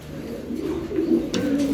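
Racing pigeons coo in a low, steady murmur, several soft overlapping calls close by with a faint rustle near the end.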